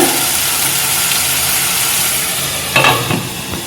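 Masala for veg biryani fries in oil while being stirred, a steady close sizzle with a brief scraping burst of the spoon near the end.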